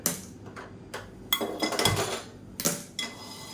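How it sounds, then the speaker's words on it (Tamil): A metal kadai is set down on a home gas stove, a series of sharp clanks and scrapes of cookware, some brief and some ringing, close by and without talk. "இப்போது நான் வேறு ஒரு கடாய் வச்சுக்கிறேன். இப்போ கேஸ் ஆன் பண்ணிக்கலாம்."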